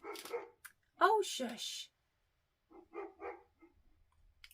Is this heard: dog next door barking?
yes